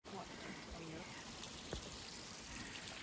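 A tiny mountain creek crosses a hiking trail as it runs down the mountainside at Worlds End State Park, a steady soft trickle and babble of water heard close by at low volume.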